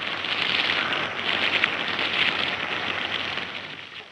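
Heavy rain pours down in a steady, dense hiss that stays loud and even throughout, with no voices.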